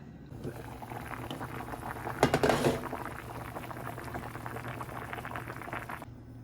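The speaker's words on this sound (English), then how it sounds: "put the lid on, turn the heat up, let it boil" Soup bubbling at a boil in a lidded pot on the stove, a steady close rolling bubble and hiss throughout with a brief louder surge of bubbling partway through, no voices.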